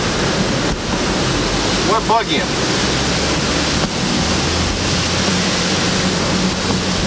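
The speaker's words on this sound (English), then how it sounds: "Look at them trees blow." Hurricane-force wind roars steadily through trees, a dense broadband rush with gusting surges, and a voice speaks briefly under it.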